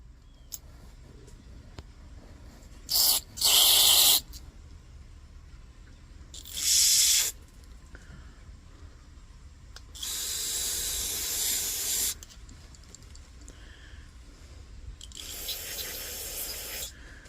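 Cleaner sprays onto a part of a 1948 Major 236 in four hissing bursts: two short close blasts, then two longer sustained sprays, with quiet gaps between them.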